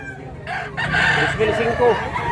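A rooster for sale in a crowded market at Mantalungon, Cebu, crows close and loud, a drawn-out call rising above the steady murmur of people talking nearby.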